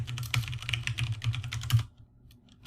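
Rapid clicking keystrokes on a computer keyboard while writing Java code, a close, steady flurry of taps that stops abruptly near the end, leaving near silence.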